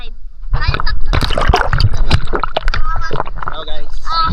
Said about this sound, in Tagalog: Mag-dive tayo, mag-dive.